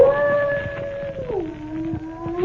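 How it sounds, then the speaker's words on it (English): A dog howls in a long, wavering tone that slides downward midway, close and fairly loud, set in an old-time radio drama of Sherlock Holmes on a stormy night. "Listen to that dog."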